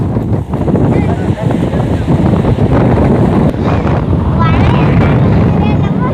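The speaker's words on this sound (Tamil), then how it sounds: "காற்று தான் எப்படி அடிக்குன்னு தெரில சவுண்டு வால்யூம்" Strong sea wind at a fish-selling shore roars steadily into the microphone, a loud continuous rumble that buries everything else, with faint voices and calls beneath it.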